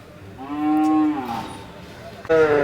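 Cattle at a bull market in Kerala give two loud, close moos, a long drawn-out call followed after a pause by the start of another.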